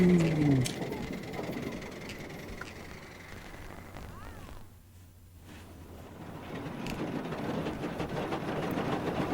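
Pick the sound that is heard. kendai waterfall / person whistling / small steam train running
small steam train running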